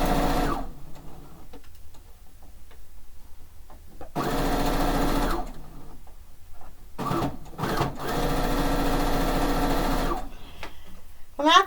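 Quilting sewing machine stitching a fish-themed quilt, running in several bursts of steady whirring separated by pauses, fairly close and moderately loud.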